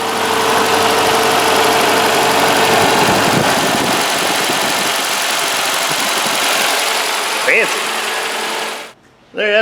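A 2013 Nissan Sentra SV engine runs steadily with the whir of a cooling fan, a continuous hum that cuts off abruptly near the end.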